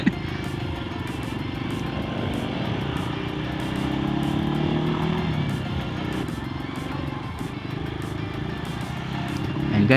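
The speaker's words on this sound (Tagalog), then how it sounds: "May sound yung motor ni Kuya, lupit." A Rusi KRY 200 motorcycle rides a rough road, its engine a continuous loud drone with wind rush, the throttle held fairly steady with a slight rise near the end.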